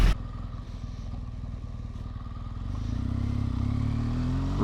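BMW R1200 GS motorcycle engine on a test ride along a bumpy road, a loud, close, steady throbbing drone that rises in pitch and intensity as the bike accelerates.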